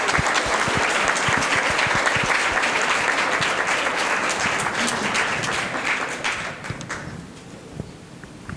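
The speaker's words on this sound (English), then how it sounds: "Please join me in a round of applause for all of your hard work." Sustained audience applause at an academic competition finals, dense steady clapping from a large crowd that thins and fades toward the end, leaving a few scattered claps.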